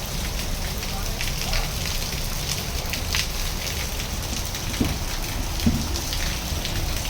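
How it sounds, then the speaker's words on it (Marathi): Steady rain pours down during a monsoon downpour, a dense continuous hiss of drops striking surfaces, loud and close throughout, with a few faint knocks underneath. "पाऊस पडतोय ना."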